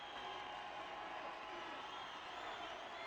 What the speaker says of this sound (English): the crowd cheering them on enthusiastically